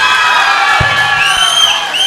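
Loud audience cheering and shouting at a comedy talk show in Thoothukudi, a dense continuous roar of voices with a few sharp thumps.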